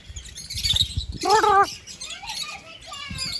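Captive birds calling in an enclosure at Tirupati zoo park: sharp chirps and one loud, harsh warbling squawk, close by, with faint voices and background noise.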